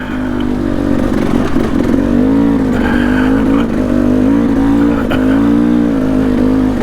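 A Kawasaki KLX140RF dirt bike engine revs steadily on a canyon trail, its buzzing note rising and falling continuously and loud throughout, with no talking.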